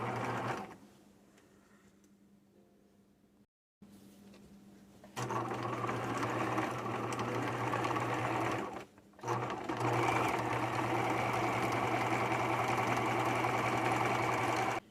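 A sewing machine stitching backwards over jeans fabric runs in a steady, loud mechanical hum, pausing briefly twice before resuming its continuous whirring close by.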